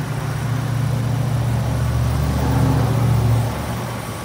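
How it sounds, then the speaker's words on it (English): The 4.6-liter gasoline V8 of a 2006 Ford E-250 cargo van idles steadily nearby, a low smooth hum that swells slightly before settling back down. "Here's the engine. Got it running."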